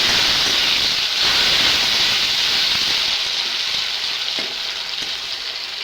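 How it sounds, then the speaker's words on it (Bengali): Chopped tomatoes go into a pan of frying onions and green chillies, raising a loud, continuous sizzle and hiss that fades slightly toward the end, with no voices. "কয়েকটা কাঁচা লঙ্কা, পেঁয়াজ গুঁজা ভাজা হয়ে গেছে। এখন দিয়ে দিব কাটা রাখা টমেটো"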